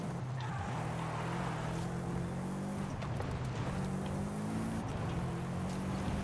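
A Subaru Impreza 22B driving downhill on a mountain road, its engine droning steadily with shifting revs and a faint whine, heard from inside at moderate level with no talk.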